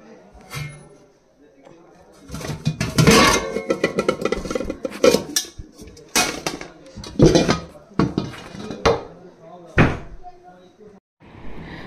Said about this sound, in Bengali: আমি এখানে কড়াই হাঁড়ি এগুলো নেব।